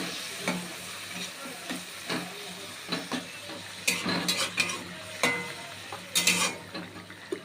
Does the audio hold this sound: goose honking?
no